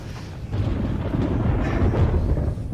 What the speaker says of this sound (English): Trapped by the storm,